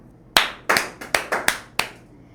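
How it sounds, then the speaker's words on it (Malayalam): A physics class of students claps in six sharp, separate claps spread over about two seconds, each one crisp and close, with no talking. "സെറ്റ് ആണെങ്കിൽ മാത്രം ജസ്റ്റ് ക്ലാപ്പ്"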